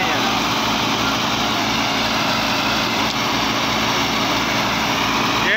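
A 2009 model 375 tractor engine runs steadily under load while driving a wheat thresher, a dense, continuous drone with mechanical clatter that holds at a constant level throughout.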